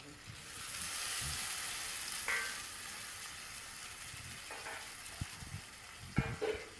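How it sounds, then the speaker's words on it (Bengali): Potatoes fry in oil in a pan for Gujarati-style sabu khichuri, a steady soft sizzle with occasional stirring scrapes and a few clicks near the end, close and fairly quiet. "আলুটাকে একটু এবার লাল লাল করে ভাজতে হবে"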